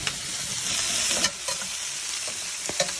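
Steady, loud sizzling of Italian peppers frying in a hot pan, with occasional scrapes and clatters as the pieces are tossed and stirred.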